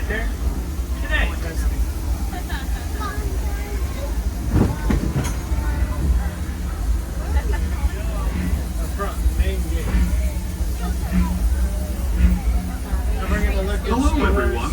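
Disneyland Railroad train running along its track, a steady loud rumble with clickety-clack wheel beats, and people talking over it throughout.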